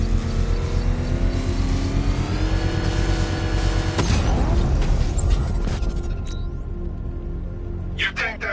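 Controlled explosion of an exposed bomb payload in Batman: Arkham Knight, a sudden loud boom bursting out of a rumbling engine drone, then a fading crackle and debris as the noise settles, with a voice under the mix.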